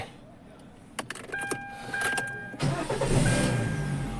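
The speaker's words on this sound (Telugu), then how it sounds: "బండి అయితే స్టార్ట్ చేస్తున్నాము" A vehicle with a weak battery starts up: a few clicks and rattles come first, then the engine catches and runs with a steady, fairly loud rumble near the mic.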